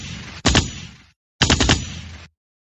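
Two loud gunshot sound effects, each a sharp crack that rings into a brief roar, separated by about a second of silence, with no talk.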